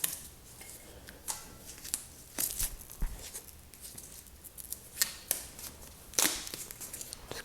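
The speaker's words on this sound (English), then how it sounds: "Just cut it off here." Scissors snip through tape during a repair of rattling internal bike cables, giving a handful of short, crisp cuts and crinkles close by with quiet pauses between, and no talking.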